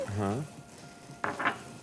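Clover butter dropping into a hot pan and sizzling, a short burst of frying hiss with a clatter of the pan; a brief voice is heard at the start.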